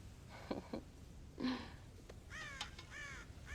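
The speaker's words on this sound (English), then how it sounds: "God damn crows!" Several crows caw in the Red Dead Redemption video game on Xbox 360, harsh calls in short bursts at the start, then a denser run of cawing toward the end over a steady game background.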